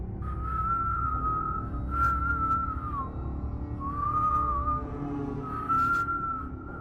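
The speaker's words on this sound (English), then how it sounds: "The same slow whistle, like a tune that had been stripped of rhythm." A slow, drawn-out whistle holds long wavering notes in four phrases with short gaps, clear against a low background hum.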